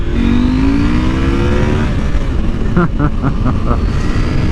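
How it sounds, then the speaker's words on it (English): A 2024 KTM 890 SMT motorcycle engine revs hard at full throttle in second gear, rising in pitch under heavy wind noise, then shifts, continuing to roar close by. "That was pretty much full throttle in second"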